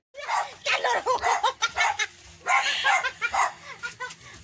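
A small dog barks and yips rapidly in excited bursts, close and loud, with a few short pauses between runs.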